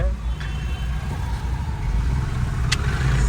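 Steady low engine drone of a car being driven in a PS5 racing game, continuous and fairly loud throughout with a brief high tick near the end, while people talk over it.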